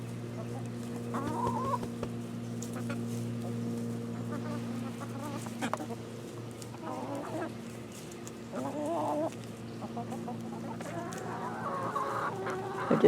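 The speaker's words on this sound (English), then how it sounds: "so we threw them out to the chickens, and they're liking them" Backyard chickens cluck and murmur steadily nearby while pecking at old cooked meatballs tossed out to them, with a low constant hum running underneath.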